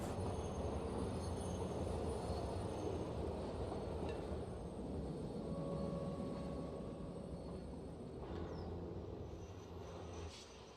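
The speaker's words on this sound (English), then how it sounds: "Oh, that was a new braking sound. I never heard that before." A train rumbles steadily nearby with broadband low noise throughout, faint tonal squeal hints from the wheels and brakes, and a brief change near the end as it slows.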